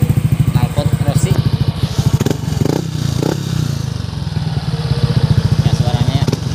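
A custom motorcycle fitted with an original Rossi aftermarket exhaust rumbles with a steady, loud, throbbing idle that runs through the whole stretch, dipping briefly in the middle while someone talks over it.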